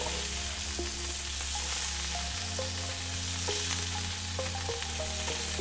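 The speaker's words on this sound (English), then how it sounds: "I'm just going to throw in this little bit of sausage just to get it browned" Sausage browning in a little olive oil in a paella pan, a constant close sizzle and fry with a low hum and faint tonal background underneath, steady throughout without talk.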